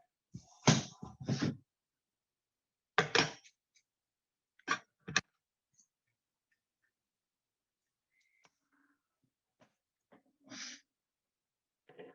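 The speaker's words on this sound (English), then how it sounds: "Good fabric scissors are your best bet." Fabric scissors cut an old T-shirt into strips for dog toys, giving short crisp snipping bursts in irregular clusters, close and fairly loud, with quiet gaps between cuts.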